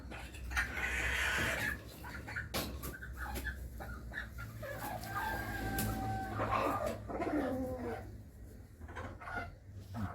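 American Silkie chickens cluck and call repeatedly over a steady low rumble of background noise, with several short bursts and a drawn-out crowing-like call midway.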